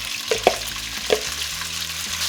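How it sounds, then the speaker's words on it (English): Beef stir-frying in hot vegetable oil in a wok over high heat, a steady close sizzle with a few sharp spattering pops and tossing clicks, no talk. "we're gonna stir fry this till it turns brown, but still pretty rare"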